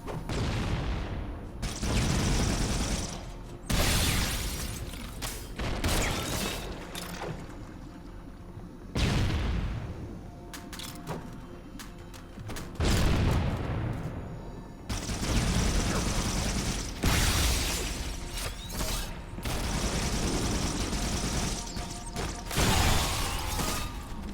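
Rapid bursts of Needler fire and explosions in Halo 1, loud and dense, repeating in clusters with brief pauses throughout.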